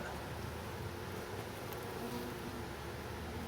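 Honey bees hum around an open nuc hive during a summer inspection, a low, constant buzzing that stays even and faint throughout with no voices.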